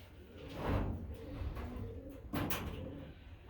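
Domestic pigeons coo softly in a nesting loft strewn with pine needles: low, rolling calls repeat quietly through the clip, with a couple of brief knocks or rustles nearby.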